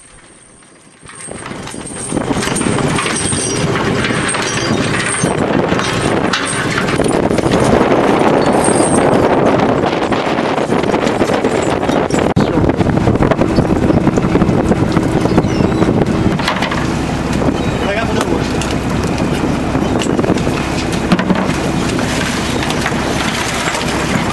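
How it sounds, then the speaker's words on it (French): Steady, heavy roaring wind and rushing noise at sea aboard a fishing trawler during a gale, loud and unbroken, with faint knocks and creaks underneath. "Il est 8h et le coup de vent est bien arrivé."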